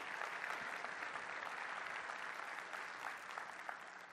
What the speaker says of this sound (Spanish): Si Dios le habló, de un aplauso al Señor,